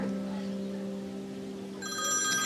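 A telephone rings briefly indoors, a tonal electronic bell heard faintly at first and then a brighter, louder ring near the end.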